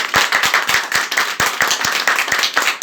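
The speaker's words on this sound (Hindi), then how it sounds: "जो अभी तक आपने ताली नहीं बजाई है ना, वो ताली बजा के दिखा दें।" An audience at a motivational talk claps on request, a loud, close run of quick, slightly uneven hand claps blending into brisk applause over a few seconds, with no voices over it.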